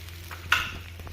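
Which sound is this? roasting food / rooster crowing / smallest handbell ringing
roasting food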